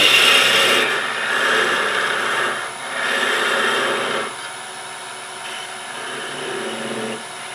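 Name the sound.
cutting a wooden spin top off on the lathe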